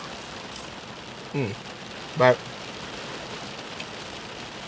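Rain falls steadily on a rainy day, a close, even patter of drops through the whole stretch, with someone speaking a couple of brief words over it.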